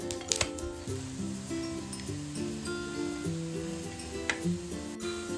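Malpua shallow-frying in a pan, a steady close sizzle running throughout beneath background music, with a few light clinks and scrapes.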